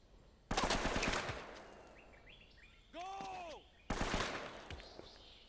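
Machine gun fire in Uncharted 3 crackles in two dense bursts, faint to moderate, separated by a brief warbling electronic whine, with players talking over the game.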